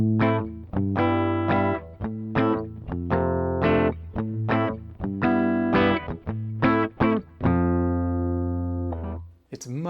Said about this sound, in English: Now we'll switch to the California pedal.